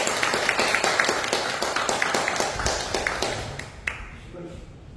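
Church congregation clapping in rhythm as a pastor comes forward at a presbytery evangelism seminar, steady evenly spaced claps that fade out toward the end, followed by quiet room tone and a faint voice.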